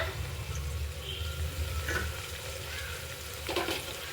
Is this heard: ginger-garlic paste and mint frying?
yes